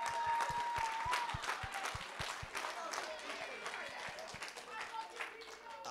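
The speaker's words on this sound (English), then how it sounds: "Let's give them a round of applause this evening." An evening audience at a middle school event applauds for students, with a mix of distinct nearby claps and general clapping, steady at moderate volume.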